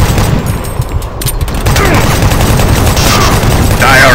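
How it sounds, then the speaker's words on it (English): Chaingun fire in Doom 3, a loud, close, sustained clatter of rapid-fire shots with heavy low-end punch, continuing almost without pause amid other game noise. "Chain guns at three paces."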